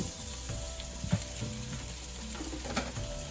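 Vegetables sautéing in a pan with a little water, a soft, steady sizzle under a low background hum with a few light stirring clicks, fairly faint, no talking.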